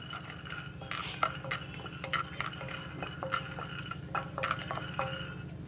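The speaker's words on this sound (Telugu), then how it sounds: "ఈ పల్లీలు కొంచెం వేగాలండి, బాగా వేగక్కర్లేదు, పచ్చివాసన పోతే చాలు." Peanuts dry-roast in a pan while a spoon stirs them, giving repeated scraping strokes and light clinks against the metal over a soft background, with no one talking.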